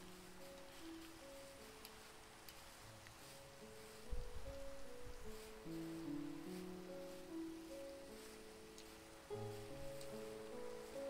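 Steady rain falls in the Minecraft video game, a constant soft hiss beneath layered tonal game music, with a few thumps partway through.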